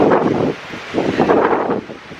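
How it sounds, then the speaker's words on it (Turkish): Strong wind buffeting the microphone outdoors at a hot scenic lookout point in Chile's Elqui Valley, loud gusty rumbling that rises and falls in waves, with no voices. "çok fazla rüzgar var"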